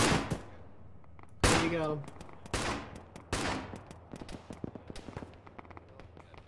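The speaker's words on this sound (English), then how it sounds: "so I gotta keep it fucking set up somewhere. It's a GPMG." GPMG machine gun firing in the Arma 3 video game, sharp loud bursts followed by scattered quicker shots and distant pops, with a brief spoken remark in between.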